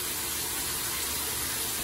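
Shower water runs in a steady, even hiss from start to finish, with no breaks and no voices.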